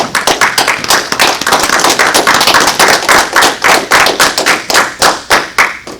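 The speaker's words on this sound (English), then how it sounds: "Give Almighty Yah a hand clap praise." A church congregation claps hands together in praise, loud, fast and steadily rhythmic for several seconds with no voices over it.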